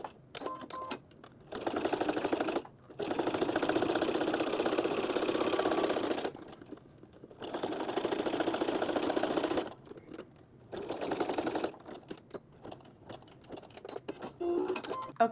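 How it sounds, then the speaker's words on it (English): Sewing machine running a zigzag stitch through twill tape and several fabric layers, a steady whirring hum in four or five sustained runs separated by short pauses, fairly close and even. "I'm going to use a zigzag stitch and sew through all layers."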